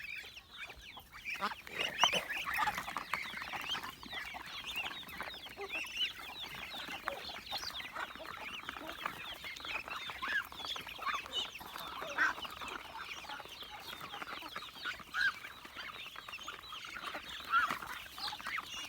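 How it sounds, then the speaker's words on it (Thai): A flock of ducks being fed rice in the afternoon, with a dense, continuous chorus of quacking and honking calls close by and steady throughout, with no talking. "ให้ข้าวเป็ดกันครับ"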